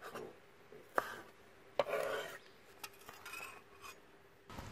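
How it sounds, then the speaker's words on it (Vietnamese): A knife crushes and cuts green onion roots on a cutting board while cooking a vegetable pork rib soup, giving a few sharp separate thuds and scraping rubs at close range. "Hành lá đập dập cái đoạn gốc nè,"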